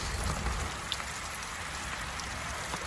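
Steady rain and dripping water patter continuously after a storm on the Pacific Crest Trail, dense and even, with scattered close drops ticking over the wash.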